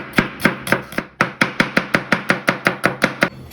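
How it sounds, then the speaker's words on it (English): A knife finely slices an onion on a cutting board in rapid, evenly spaced chops, about a dozen crisp thuds in quick rhythm, close and clear with no talking. "now first let's chop the onion, clean it up nicely, and we are going to slice it really fine"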